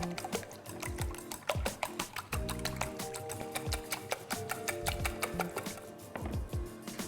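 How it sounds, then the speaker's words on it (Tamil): Eggs mixed with a milk mixture are beaten briskly in a bowl, giving a quiet, fast, steady run of clicking taps and soft sloshing, heard up close without talk. "இப்போ வந்து இந்த பால் மிக்சரை இந்த முட்டைக்குள்ளே ஊற்றிடலாம். இதை நல்லா அடிச்சுக்குவோம்."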